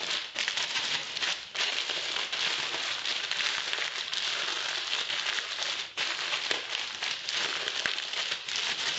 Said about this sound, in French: Ensuite vous les mettez dans un sachet qui ferme, hein, hermétique, et là vous allez les casser.